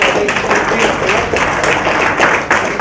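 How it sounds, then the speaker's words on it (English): An audience gives a loud, continuous round of applause at an event handing out wigs to cancer patients, with dense clapping sustained throughout and a few voices mixed in. "Give her a big round of applause."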